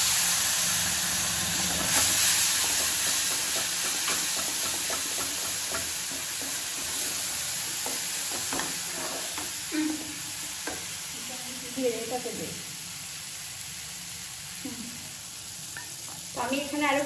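Spices go into oil where cumin seeds are already frying for a Bengali dal and pointed gourd dish, giving a continuous close sizzle and hiss with scraping stirring strokes, and voices talk briefly at moments over the frying.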